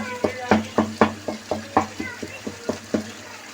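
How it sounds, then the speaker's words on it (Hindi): A spoon works raw mango chutney around a hot pan as it roasts, giving a steady run of about a dozen close, evenly spaced scraping strokes over a soft sizzle, with no talk. "बस इसी तरीक़े से बस हम भुनाई करते जाएंगे, इसी में हमारी ये कैरी घुट जाएगी।"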